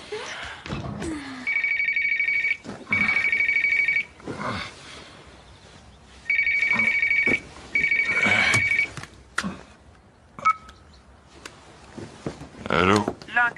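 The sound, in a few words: telephone ringing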